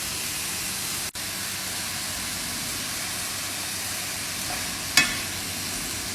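Mint chutney ingredients sauté in a pan with salt, an even, steady sizzle throughout, with one sharp clack near the end, close and unaccompanied by speech.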